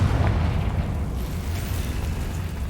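A booming magical blast from the Confringo explosion spell in the video game Hogwarts Legacy, a loud, dense rumble that starts strong and slowly fades across a few seconds, with no talk.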